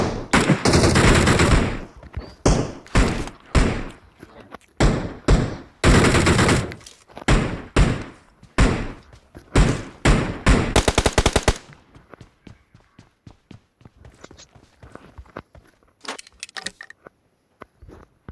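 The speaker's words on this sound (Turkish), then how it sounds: "Birbirlerine sıkıyor." Loud bursts of automatic gunfire ring out in PUBG Mobile as bots shoot at each other, with rapid repeated volleys close by, then fading to sparser, fainter shots.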